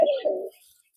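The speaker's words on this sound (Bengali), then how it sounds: "আমার কাছে একশো পিসের মতো কবুতর আছে" A silver pigeon gives one short, close coo that quickly fades, with no other sounds.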